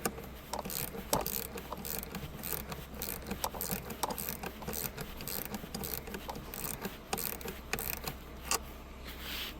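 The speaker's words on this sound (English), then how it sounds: "Basically, all you're doing is you're screwing that screw down, or nut down, I should say, and it's pulling the cable tighter." A wrench tightens a parking brake cable adjuster nut on a car, producing close, steady ratcheting clicks and metallic scraping over a low background hum.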